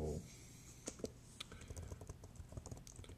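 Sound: typing on a computer keyboard

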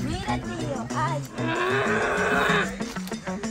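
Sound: cow mooing in a swamp

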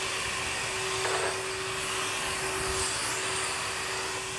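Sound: vacuum cleaner running, suction test

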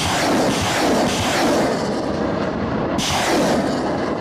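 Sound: American M777 howitzer artillery firing near Kurakhove

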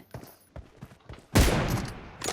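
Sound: gunfire in video game PUBG Mobile

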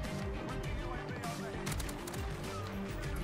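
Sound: gunfire from hip-firing the M13 rifle in video game Call of Duty Modern Warfare

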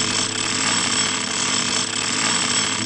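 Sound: drill or jackhammer in Simon the Sorcerer video game

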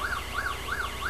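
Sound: sirens

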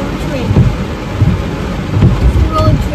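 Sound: thunderstorm with rain

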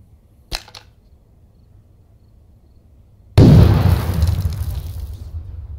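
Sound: frag grenade exploding, from video game Thunder Tier One

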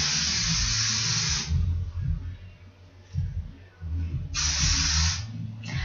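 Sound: hairspray being sprayed on hair

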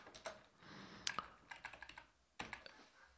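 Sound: typing code on a computer keyboard

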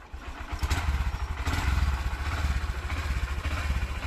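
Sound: Honda Livo 2021 BS6 motorcycle engine accelerating hard

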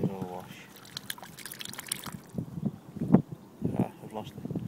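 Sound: washing a found coin with water

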